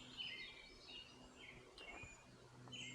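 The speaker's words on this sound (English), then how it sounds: "Listen to the birds." Small birds chirp and trill faintly in the distance at Pintail Marsh, Oregon, in short scattered calls over a quiet, hushed background.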